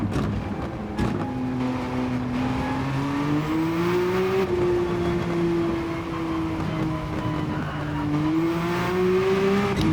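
Race car in a Nürburgring Gran Turismo 900 race, its engine droning loud and close, pitch climbing steadily as it accelerates, dipping once on a gear change before rising again.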